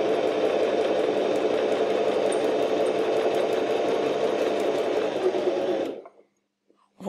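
A sewing machine stitches a curve, its fast, even mechanical hum running steadily and close up for about six seconds before stopping abruptly into near silence.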